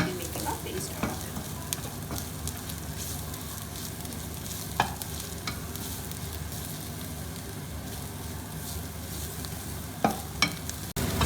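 Onions fry in a pan over a gas flame, giving a continuous soft sizzle at moderate distance, with a few sharp spatters and stirring clicks scattered through; no speech.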